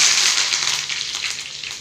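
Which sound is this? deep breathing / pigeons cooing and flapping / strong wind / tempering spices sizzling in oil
tempering spices sizzling in oil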